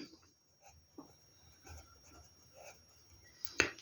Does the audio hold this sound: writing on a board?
yes